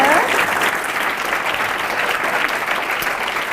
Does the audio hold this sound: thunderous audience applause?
yes